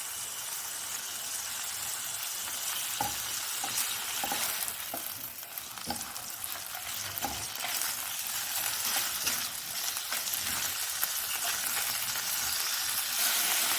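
Chicken for spring roll filling fries in a pan over a medium flame, giving a steady, soft sizzle with a few faint stirring scrapes and clicks.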